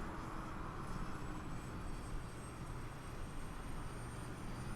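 A jet APU starting on a 146 airliner in Microsoft Flight Simulator: a steady roar and whine holding at an even level, a broad continuous rush with a faint high tone above it.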